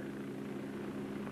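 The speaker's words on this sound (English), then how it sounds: "There's an helicopter having a look." Military helicopter flying overhead during a 1982 British Army sniper exercise, a steady, distant rotor and engine drone holding at an even level throughout, with no talk.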